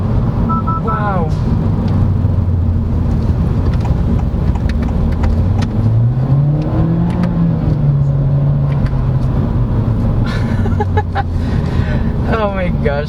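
A 2022 Honda Civic RS with turbo engine and CVT accelerating while overtaking: a loud, steady engine drone with a rising and falling pitch sweep heard from inside the cabin, with road rumble throughout.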